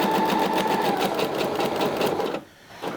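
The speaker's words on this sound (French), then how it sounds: "je couds tout le reste de l'encolure simplement" Sewing machine running steadily at close range as it stitches around a blouse neckline, a fast even whir that stops abruptly near the end and then briefly restarts.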